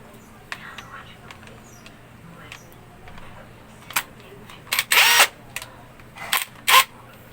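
An impact wrench works the 19mm torque drive nut on a Honda Click CVT, with several short loud bursts near the end after quieter handling noises.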